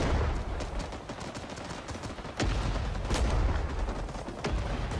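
Gunfire fills a battlefield in the shooter game Rising Storm 2, with rapid bursts and heavier booms close by and in the distance over a constant roar, and no talk heard.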